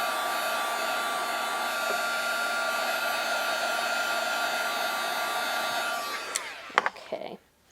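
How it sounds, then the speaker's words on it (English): Heat tool melting embossing powder on a winter window card, a steady blowing whir that runs for about six seconds, then cuts off, followed by a few faint clicks and handling sounds. "again with the heat tool, and that's going to melt the embossing powder just a little bit"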